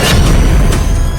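A loud, close boom with a rumbling low tail as an explosion destroys a Hezbollah building in an IDF strike, a single blast filling the short clip.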